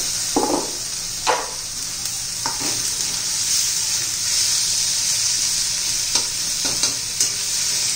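Onion, tomato and ginger-garlic paste sizzle in a pan for a bitter gourd dish, a steady loud frying hiss broken by several clunks of a spoon stirring, with no one talking.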